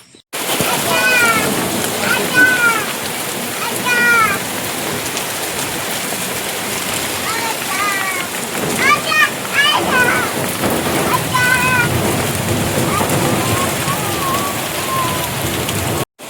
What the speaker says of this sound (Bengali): হঠাৎ ঝড় বৃষ্টি